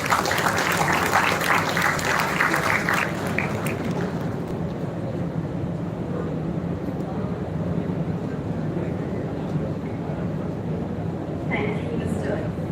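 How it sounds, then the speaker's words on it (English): A convocation ceremony audience gives a burst of clapping that fades after a few seconds into a steady, low hall rumble, with a voice speaking over it. "Kindly welcome her with a round of applause."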